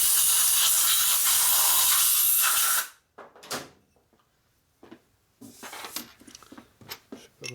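Compressed air blasts grit off Linkert M51L carburetor parts from a 1937-52 Harley in a loud steady hiss for about three seconds, then cuts off, leaving quiet handling clatter and brief short puffs.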